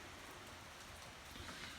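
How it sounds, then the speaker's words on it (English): Early-morning rain around half past five patters steadily in a soft, even hiss of drops on surfaces, faint and continuous for a couple of seconds with no voices. "It's about 5:30 in the morning, and it's raining."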